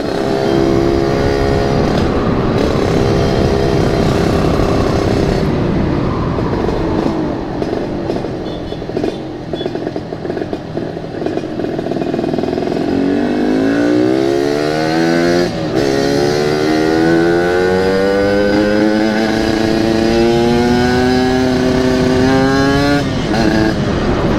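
A motorcycle with a locally made aftermarket exhaust revs loudly and close, its engine note climbing and falling through repeated throttle blips over about twenty-four seconds.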